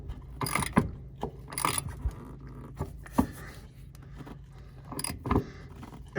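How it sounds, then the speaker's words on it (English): A ratchet wrench loosens a bolt on a Freightliner Cascadia truck's air spring, sounding as quiet, close bursts of clicking and metallic clanks at an irregular pace, with pauses in between. "Gotta take this bolt off."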